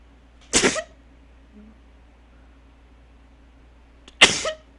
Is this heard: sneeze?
yes